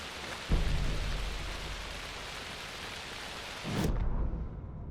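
Thunder and steady rain from the video game Alan Wake 2, a heavy constant downpour broken by two deep thunder rumbles, the second ending in sudden quiet.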